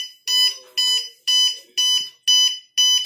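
A drunk-driving engine locking system's buzzer sounds in six regular, evenly spaced electronic beeps, shrill and close, each lasting about a third of a second, with no talk over it.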